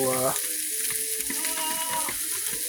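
Eggs for a breakfast casserole sizzle steadily in a pan, a close, continuous frying hiss with a brief tonal whine at the start.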